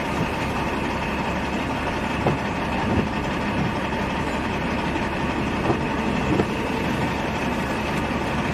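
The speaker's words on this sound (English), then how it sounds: "you get some heckin' chuggers of trains out here" A freight train rumbles past in a steady, loud low drone, heavy engine and rolling wagons blending into a continuous chug with faint clanks, no voices.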